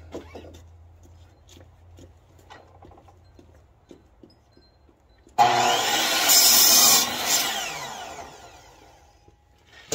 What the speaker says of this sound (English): we cut these with a Sawzall